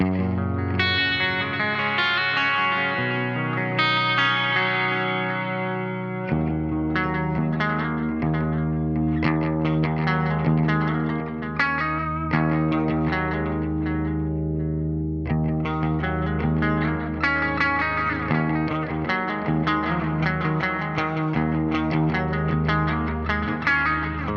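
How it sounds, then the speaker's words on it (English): Electric guitar through a BOSS RE-202 Space Echo, playing sustained chords and picked notes with audible repeats and a reverb wash, steady and fairly loud throughout with no voices. "There's our Space Echo."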